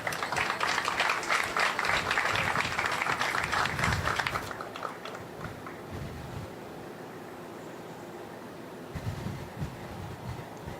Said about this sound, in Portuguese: Mando forte aplauso.